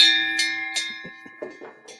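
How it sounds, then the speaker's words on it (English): Gong struck to open a virtual event, with several bright metallic strikes ringing out over a sustained shimmering tone, close and fairly loud, with no voices. "I'll get us kicked off here with the gong"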